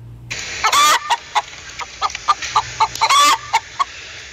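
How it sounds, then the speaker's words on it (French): Hen clucking in a steady series of short, clipped calls, broken by two longer, louder cackling squawks, close up with little else around. "Elle caquette, elle glousse ou elle crételle."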